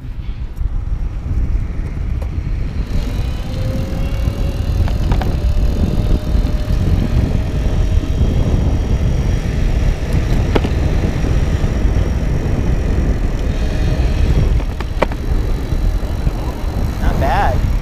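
A Go-Ped GoBike Power Rack friction drive motor runs steadily on a moving bicycle, its constant whirring hum paired with heavy wind buffeting throughout.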